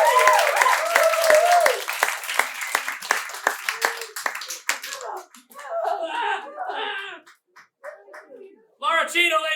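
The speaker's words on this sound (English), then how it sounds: "I want to get the round of applause going." A late-night live show audience claps for a singer and her father on keys. Loud crowd applause with sharp individual claps and cheering voices fades into scattered clapping and talk.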